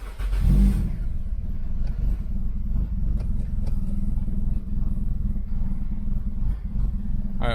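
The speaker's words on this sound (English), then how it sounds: "So let's start this car." A turbocharged Toyota Corolla with an aftermarket tune cranks and fires up, a brief loud burst at startup settling into a steady, slightly rough low idle that continues alone and close by.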